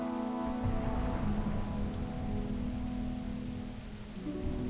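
Continuous rain storm ambience from the World of Warcraft War Within campaign, steady patter of raindrops with a low rumble, with a sustained tonal drone underneath.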